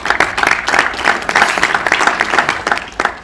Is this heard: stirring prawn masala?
no